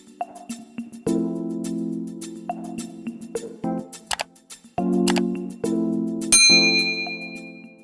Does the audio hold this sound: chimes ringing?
yes